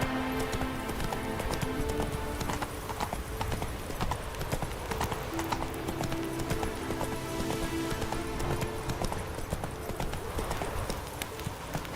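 Horse hooves clip-clop at a steady gallop in The Witcher 3: Wild Hunt, a rapid, continuous, close rhythm over game ambience throughout.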